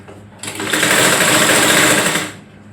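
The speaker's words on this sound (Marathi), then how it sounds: "हे बघा पुन्हा शिलाई मार घेतली. कट टू कट वरून कट टू कट शिलाई मारली." A sewing machine runs a fast, continuous stitch along the seams of a frock for a five-year-old girl, loud and close for about two seconds before winding down.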